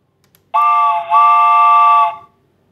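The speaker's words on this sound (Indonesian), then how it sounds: "Maka akan terdengar bunyi kereta api" A loud train whistle played from an audio file in MATLAB sounds alone, a steady harmonic tone with a brief dip partway through, then it cuts off into silence.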